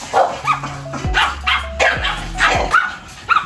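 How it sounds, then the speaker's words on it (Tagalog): Several dogs, including two Pomeranians and a bully breed, bark and yip in short overlapping bursts close by, with a few higher whimpering yelps mixed in. "Ayan ang mga aso ko."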